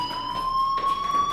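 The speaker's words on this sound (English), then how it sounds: "Hey, do you hear that fire alarm?" A fire alarm rings in the Life Is Strange video game, a steady piercing electronic tone that holds continuously throughout, loud and without speech over it.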